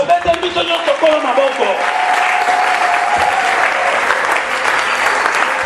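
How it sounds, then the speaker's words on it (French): A church congregation claps for Jesus in loud, sustained applause that swells and carries on, with voices calling out over the clapping at the start. "Acclamons tous pour Jésus."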